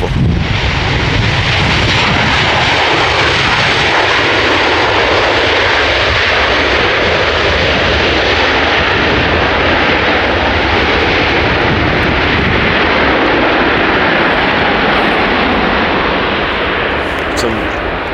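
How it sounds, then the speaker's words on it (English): A jet airliner's engines roar loudly and steadily in reverse thrust after touchdown at Edinburgh Airport, a dense, powerful rush with no pauses for the whole stretch. "Some very loud engines once that reverse is deployed"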